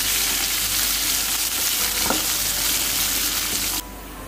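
Curry leaves frying in oil for a fish curry, a dense, steady sizzling hiss heard close up with no voices, ending in a sudden drop in level near the end.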